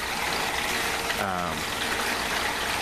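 Water gushes steadily through a recirculating gold sluice fed by a hose, processing Alaskan paydirt, a constant rushing flow with a brief gurgling swirl midway.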